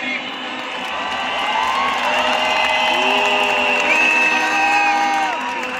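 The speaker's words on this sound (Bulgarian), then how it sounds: "Аплодисменти!" A large crowd at a protest in Sofia, Bulgaria applauds and cheers in a loud, continuous roar. Sustained whistle-like tones run through it.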